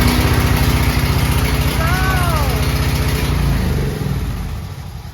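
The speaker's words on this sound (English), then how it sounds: "Oh my god, it sounds like a lawnmower." A loud portable petrol generator runs steadily close by during hurricane preparation in Orlando, Florida, with a rough lawnmower-like engine drone that eases slightly toward the end; a voice speaks briefly over it.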